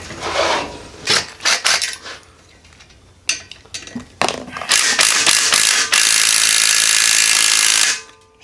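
Ratchet wrench on a very long socket extension working on a Predator small engine, giving irregular bursts of clicking ratcheting followed by a long, sustained, loud whirring ratchet spin before stopping.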